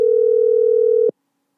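A telephone dial tone heard while calling in to a show: a steady, loud, unbroken tone that cuts off abruptly after about a second, followed by silence.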